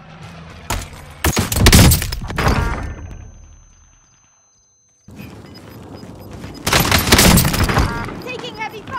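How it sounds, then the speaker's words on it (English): Heavy gunfire in the Call of Duty Warzone video game, loud dense bursts and impacts in two clusters separated by a near-silent gap, with game voice callouts mixed in. "Taking heavy fire!"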